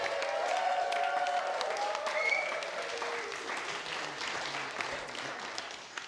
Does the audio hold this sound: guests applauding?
yes